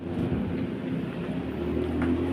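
Steady rain falls outdoors during aircon repair work on an LG 3-ton floor-mounted unit, a constant broadband hiss with a low rumble beneath, even and continuous with no talk.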